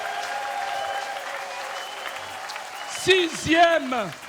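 A church congregation bursts into applause, a burst of clapping rising near the end beneath a loud voice calling out, with a faint room hum before it.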